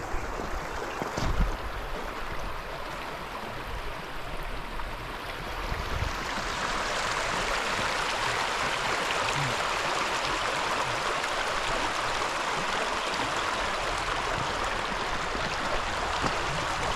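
Steady rushing of a stream flowing past a campsite at The Junction, Queensland, a broad continuous wash of water that grows fuller partway through, close and constant with no voices.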